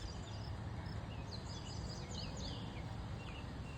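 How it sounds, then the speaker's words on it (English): Small birds chirp and trill faintly in the distance along a trail beside water where people are kayaking, their scattered calls heard over steady low wind or road rumble during an electric bike ride. "You can hear all the birds."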